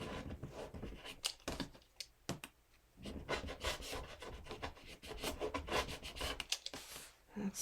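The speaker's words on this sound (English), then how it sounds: "Get all of our seams cut off." Scissors snip and rasp through the serged seams and jersey fabric of a vest being cut apart for a jacket upcycle, in close, irregular bursts of cutting with brief pauses.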